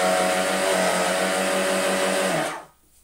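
A Gtech Air Ram K9 Mk1 cordless vacuum cleaner runs poorly with a strained, steady motor whine and a buzzy hum, then winds down and cuts off near the end.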